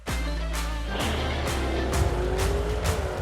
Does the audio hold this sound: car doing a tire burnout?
yes